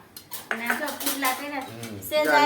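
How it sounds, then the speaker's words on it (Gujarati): Metal kitchen utensils clatter and clink in a home kitchen during winter cooking of pudla, a run of close, bright knocks and scrapes with no talk. "અત્યારમાં વાસણ ખખડાવે છે"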